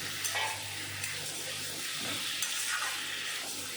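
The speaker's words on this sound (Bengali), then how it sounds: "একটু নেড়ে চেড়ে দিয়ে দেব" Cauliflower stirred in a frying pan for a fish curry, a faint steady sizzle with a few gentle spatula scrapes, quiet and close, no one speaking.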